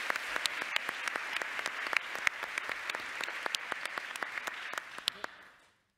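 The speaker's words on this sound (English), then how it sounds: "So a round of applause for Nobel and" Applause from an audience at the closing of a Nobel Prize dialogue event in Sydney, with sharp individual claps over a steady crowd patter that fades out toward silence at the end.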